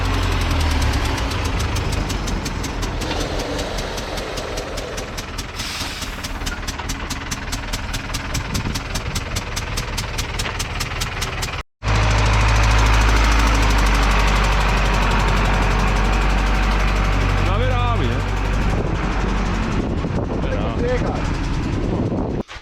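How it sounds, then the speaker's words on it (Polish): A Zetor tractor engine runs loudly and unevenly with a rapid knocking rattle, cutting out briefly midway before rumbling on, with voices faintly underneath, during grain loading. "Słuchajcie jak pracuje silnik."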